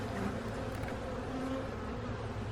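Honey bees at an opened hive buzz as a dense, continuous hum of many insects, close and moderately quiet, with no voices.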